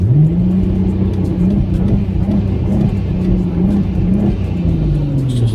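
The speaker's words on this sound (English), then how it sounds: "Give it a little bit of rev there for you guys." The turbocharged engine of a VW MK5 Golf R32 being checked for a misfire revs up close and loud, its pitch rising and falling over a steady rumbling idle.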